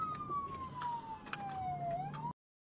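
A police car siren during a high-speed chase wails steadily with a slow falling pitch, then briefly rises before cutting off abruptly, over low traffic rumble.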